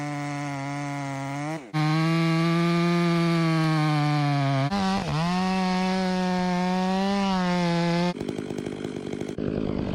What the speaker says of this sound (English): The lumberjack approaches, gripping his razor-sharp chainsaw. It roars to life with force.